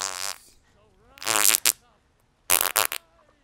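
A loud, wet flatulence sound effect from the video game Skyrim bursts out in three separate blasts: a long opening one, a second with a short trailing puff, and a final choppy burst made of several quick pulses, with quiet gaps between them.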